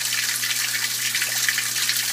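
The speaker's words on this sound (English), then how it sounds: "the mains have stopped and it's pumping the water." Japanese washing machine pumping out water after the main wash stops, a steady loud rushing gush over a low pump hum, continuous and close with no voices.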